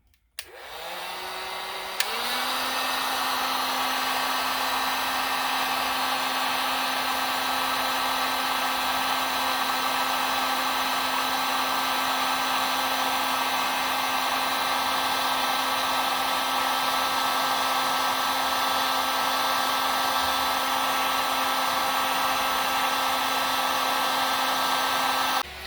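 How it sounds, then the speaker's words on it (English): A heat gun drying paper switches on with a quick rising whir, then holds a loud, steady, close-up blowing whine with a constant pitch for over twenty seconds. "I've got my heat gun out. And this is going to make noise."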